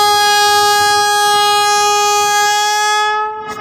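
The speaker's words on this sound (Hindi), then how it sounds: "और अब ये जो लास्ट हॉर्न था और अब जो है उन्होंने डिपार्चर करना शुरू कर दिया।" A long, steady train horn sounds as the 15-coach Dhamaka Express begins departing from Sargodha, a loud sustained blast close by that fades out near the end.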